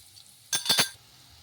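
Homemade noodles with black pepper powder are stirred in a pan, giving a short cluster of three or four close metallic scrapes and clinks of a utensil against the pan, loud against an otherwise quiet background.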